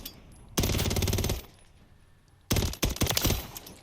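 A WSP Swarm submachine gun in Modern Warfare III fires two loud, rapid full-auto bursts, each about a second long, separated by a quiet pause, with no one talking.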